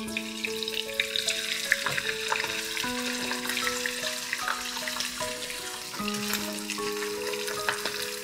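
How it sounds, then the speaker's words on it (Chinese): Fish head and tail fry in hot oil in a wok, a soft continuous sizzle and crackle running low beneath steady background music. "锅热加油，先把鱼尾鱼头用油煎一下"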